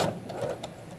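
A sewing machine runs briefly with no thread in the needle, so nothing gets stitched. It gives one close, mechanical whirring burst of about a second, with no talking.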